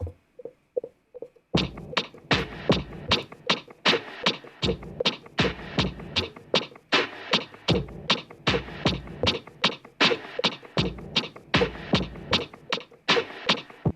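Crisp electronic hi-hat hits played on a MIDI keyboard, repeating in a quick, steady rhythm with slight accents, preceded by a few soft clicks.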